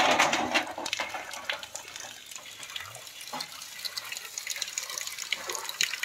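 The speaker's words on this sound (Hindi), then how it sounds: "यह फुल फोर्स में पानी खोल दिया गया है" Water gushing at full force from a pipe or tap to flush out a drain, a loud splashing rush that begins strongest and settles into steady spattering flow with scattered drips.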